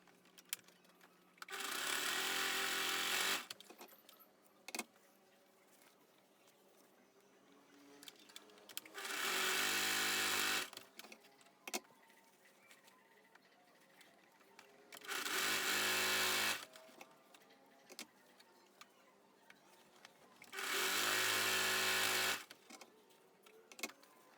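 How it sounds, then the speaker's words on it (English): A sewing machine stitches the sides of a fabric chef cap in four loud, steady runs of a few seconds each, with quiet handling of the cloth in the pauses between. "I'm going to go ahead and close all the sides. So sew all this close."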